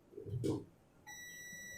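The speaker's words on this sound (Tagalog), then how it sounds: "Switch natin dapat mag-beep siya." A switch tester gives a steady high electronic beep when a newly wired three-gang light switch is flipped on, following a brief handling thump; the beep is moderately faint and sustained.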